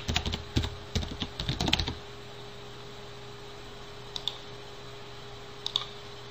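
Fingers type on a computer keyboard while entering a name into a wiki property form. A quick, close run of keystrokes lasts about two seconds, then near silence broken by two isolated faint clicks.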